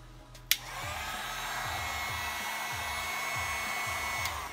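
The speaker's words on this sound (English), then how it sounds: "When you get your heat gun, you're going to turn it on" A heat gun clicks on and settles into a steady, loud blowing whir that holds for several seconds, with a faint rhythmic ripple under the airflow.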